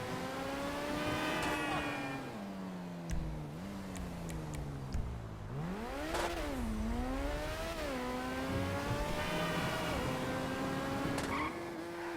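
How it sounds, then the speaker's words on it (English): Declasse DR1 IndyCar engine in GTA Online, a high-pitched open-wheel racing engine revving up and down through gear changes with rising and falling whines, with brief tire squeals between shifts, heard alone and moderately close. "Not really ideal for driving an Indy car."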